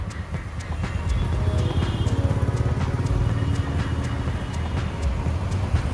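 A Royal Enfield Classic 350 motorcycle pulls away, its low steady engine thump rumbling fairly close and continuous with a slight rise in level, no talk over it.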